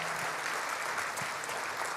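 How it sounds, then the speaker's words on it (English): An audience at a benefit cook-off applauds students who shared their story, with dense, steady clapping across the room, moderately loud and without talk. "can we just give those students a round of applause for sharing their story with us and for being willing to do that?"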